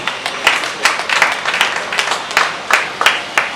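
An audience at a political assembly ahead of provincial governor and senator elections claps in a modest, uneven applause, with distinct individual claps standing out at close range.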